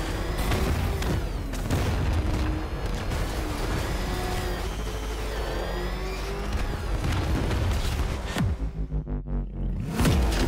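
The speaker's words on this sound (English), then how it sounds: "Explosions." A sequence of booming explosions and crashing destruction in the video game Batman Arkham Knight, loud and continuous with deep rumbles and bursts over a game score, then a sudden drop into a quieter, pulsing tail.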